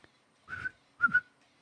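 Person whistling two short tuneful phrases, the first a single held note and the second a pair of quick notes, clear and close in an otherwise quiet room.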